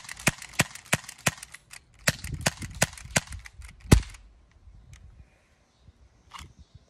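An airsoft gun fires at a box in quick sharp snaps, about a dozen close loud cracks in an uneven rapid string, then a few last shots trail off into quiet.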